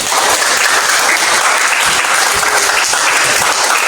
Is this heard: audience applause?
yes